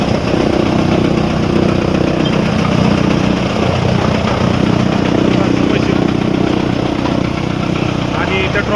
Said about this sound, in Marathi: हे मुरघासचं मशीन आहे.